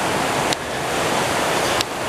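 Water rushes steadily through a river gorge in Niigata's Chuetsu region, a broad continuous roar filling the space, loud and close, with a couple of faint clicks and no talking.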